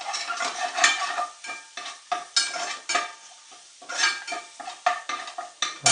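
Onions being stirred in a pan for mutton gravy, a series of close, uneven scraping and rustling strokes with short pauses between them, no one speaking.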